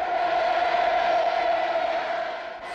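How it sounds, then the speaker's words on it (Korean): A large crowd at the 2000 inter-Korean summit welcome in Pyongyang keeps up a dense, sustained roar of cheering and massed mansei shouts, heard from a distance and fading slightly at the end. "격정을 터치는 만세 환호 소리는 개선문 앞에서도 울려 퍼지고 있습니다"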